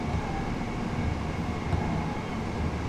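A Class 377 electric train runs in the Train Sim World video game on the East Coastway Line, a steady, fairly quiet low rumble of wheels and motors that holds evenly throughout, with no voices.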